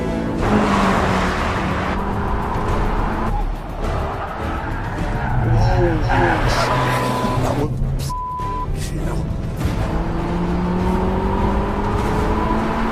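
A hot hatchback lapping the Monaco Grand Prix street circuit, its engine droning loudly throughout while tires squeal briefly through the corners, with muffled talk inside the car.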